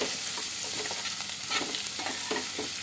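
Finely chopped onions and crushed garlic sizzling in hot oil for a Tamil fried urundai kuzhambu, a steady frying hiss with soft stirring scrapes in the pan, close and continuous with no talking.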